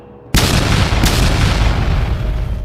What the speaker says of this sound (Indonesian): Meriam iblis meledak